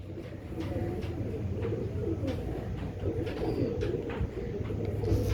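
Dub pigeons coo steadily at close range, a low continuous murmur with soft repeated calls from several birds and no talk over them.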